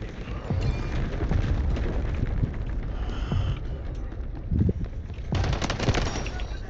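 Rapid bursts of gunfire and rocket blasts from the video game Delta Force crackle in dense volleys, with sharp booms scattered throughout at moderate loudness, partly under talk.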